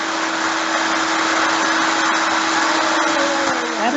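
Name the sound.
loud vacuum cleaner running in the background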